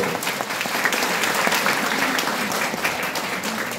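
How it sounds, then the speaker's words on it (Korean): A crowd at a tenants' public hearing for a neighborhood emergency committee breaks into sustained applause, loud, even and dense throughout with no voices over it. "한번 박수 주십시오."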